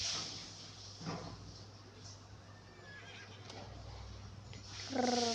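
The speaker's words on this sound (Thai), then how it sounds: "เราก็ขี่ม้าไปเลย" A horse in a prison-escape video game neighs and whinnies twice, a short call near the start and a clearer, louder whinny at the end, over a steady game background hum.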